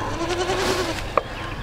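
A dairy goat on a Romanian farm gives one short, close bleat near the end, over a steady rumbling background and a faint tonal drone, with no talk.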